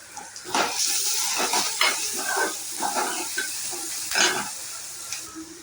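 Onions and other ingredients sizzle and crackle in an oily pan while being stirred, with bursts of scraping and hissing rising and falling over several seconds, close and moderately loud.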